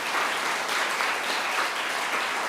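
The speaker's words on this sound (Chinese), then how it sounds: "咱用鼓掌来鼓励因。" A church congregation at a Taiwanese-language Presbyterian worship service claps together, a steady, full round of applause in a large hall that holds evenly from start to end.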